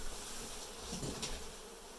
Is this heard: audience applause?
no